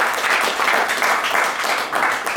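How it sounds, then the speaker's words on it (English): Applause for boxer Xolisani Ndongeni at a boxing press conference, a loud, dense crowd clapping that swells and ebbs in waves for a couple of seconds. "let's give Xolisani a big round of applause"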